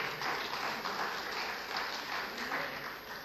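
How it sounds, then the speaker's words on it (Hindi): A mushaira audience applauds to welcome a poet, with sustained, dense clapping from a crowd throughout. "उसमें तालियों में आप इस्तकबाल करें डॉक्टर शगुफ्ता गज़ल साहिबा का"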